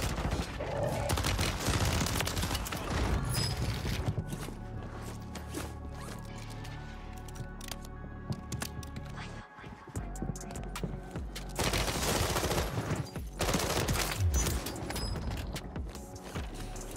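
Renetti submachine gun fire in Warzone, Season 3, with loud, sustained rapid bursts and clattering shots running nearly continuously, briefly dipping around the middle before resuming.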